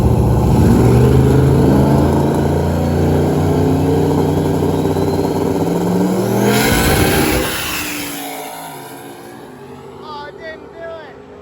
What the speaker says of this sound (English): This always pops whenever it goes up on its two-step.